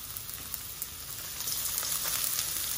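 A pan sizzles softly at the start of cooking the filling for shrimp and vegetable spring rolls, a steady crackling hiss that grows slightly louder partway through, with no voices.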